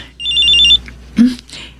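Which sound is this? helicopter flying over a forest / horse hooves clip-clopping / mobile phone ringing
mobile phone ringing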